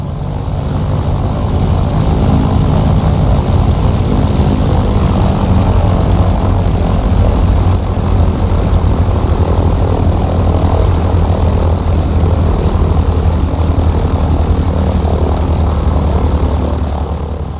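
A Grumman F4F Wildcat's propeller engine drones loudly and steadily while the plane taxis in Microsoft Flight Simulator, a constant close rumble with a heavy low throb that holds without a break from start to finish.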